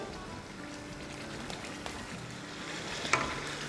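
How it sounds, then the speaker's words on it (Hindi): Potatoes frying in oil in a pot for biryani give a steady, soft sizzle with light stirring clatter throughout and a brief sharper scrape near the end, with no talk. "तो आलू के साथ थोड़ा सा भूनेंगे।"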